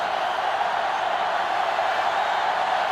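A steady, dense stadium crowd roar from the NCAA Football 2005 video game, a continuous broadband wash of fans holding at an even loudness with no distinct cheers or breaks.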